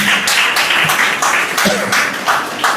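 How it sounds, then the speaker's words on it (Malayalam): Audience claps steadily at a school-supplies distribution event held by the Indian Labour Party, a sustained crowd applause with some voices mixed in. "നന്നായിട്ട് കൈയടിച്ചു."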